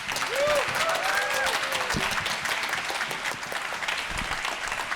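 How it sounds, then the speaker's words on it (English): An audience at a startup demo day event applauds as a company CEO and chairman comes on stage, a broad, sustained wash of clapping with a few voices and whoops mixed in. "please welcome with a big applause to CEO and Chairman of Boyoung, Jae Kim."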